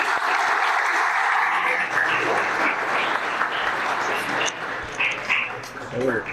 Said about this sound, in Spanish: Un aplauso para Fernando, por favor.